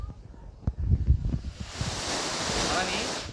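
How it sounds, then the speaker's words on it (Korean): Air rushes through the opened valve of a self-inflating camping mat during car camping in a Mini Cooper, a close, steady breathy hiss that swells up after a moment of quiet speech and then holds. "구멍을 어, 이렇게 열어주시면 바람소리 여기 한번 어, 마이크로 해보겠습니다"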